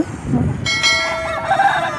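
A roughly year-and-a-half-old rooster, about two and a half kilograms, at a market lets out a loud, close crow that follows a few low clucks, with no speech.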